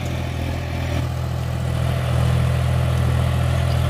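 A John Deere 5050D tractor's heavy diesel engine drones steadily while pulling an 8x8 disc harrow, close and loud, its low rumble swelling slightly partway through.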